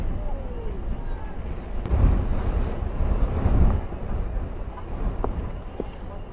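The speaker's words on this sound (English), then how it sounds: "There's another gust of wind that comes through." A gust of wind sweeps across an outdoor college baseball field, a loud rumbling buffet that swells and fades over several seconds in a continuous roar.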